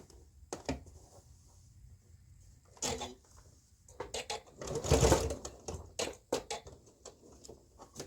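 A home sewing machine runs in short bursts while stitching the center back seam of a lined jacket, brief whirring runs separated by pauses, with light handling clicks and rustles in between.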